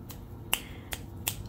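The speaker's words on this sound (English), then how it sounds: "don't snap your fingers at us, please" Three crisp finger snaps ring out alone at an even pace, close and sharp against a quiet background.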